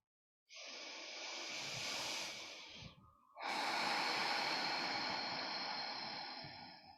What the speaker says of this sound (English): And then take a bigger breath in.